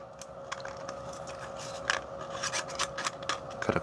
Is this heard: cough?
no